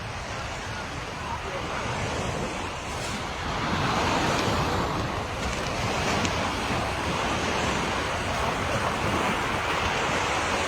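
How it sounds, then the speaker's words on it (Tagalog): Strong ocean waves break on a sandy beach at My An Beach in Danang, Vietnam, a loud continuous roar of surf with wind buffeting the microphone. "Tapos ang lakas ng alon."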